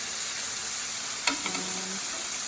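Grilled chicken sizzling steadily in a constant hiss, with a brief clack and a short surge of crackling as a piece is flipped partway through.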